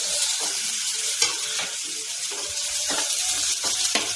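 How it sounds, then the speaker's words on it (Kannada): Dried coconut, garlic, a little tamarind and a small tomato fry in a pan, with a continuous sizzle and repeated scraping and stirring strokes at close range. "ಎಲ್ಲ ಸ್ವಲ್ಪ ಫ್ರೈ ಆಗಿದೆ."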